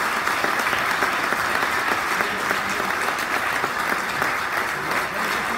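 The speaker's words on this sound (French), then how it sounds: "Je pense à Gérard Sutra, que je voudrais que vous applaudissiez beaucoup." An audience breaks into sustained, dense applause that holds evenly for several seconds, loud and full, with a crowd of many hands clapping together.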